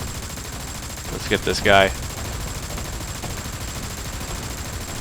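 Mech guns in the War Thunder video game fire one brief burst of rapid shots partway through, with someone talking over the game noise.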